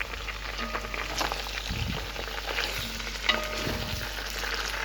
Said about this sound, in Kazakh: Бір-екі минут сәбізімізді қуырып аламыз.